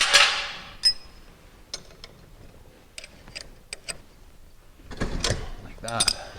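Bolts being tightened on a garage door opener during installation: scattered metallic ticks and clanks, with a louder cluster of rattling and clattering toward the end.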